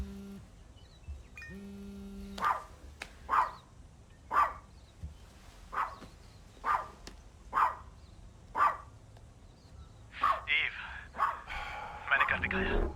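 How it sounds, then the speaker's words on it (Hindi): A dog barks in a steady series of sharp, separate barks roughly every second, close and fairly loud, ending in a denser cluster of yips; the scene is from a dubbed Hollywood film, and a faint tone and low hum sit underneath. "भौंकना बंद करो विकी।"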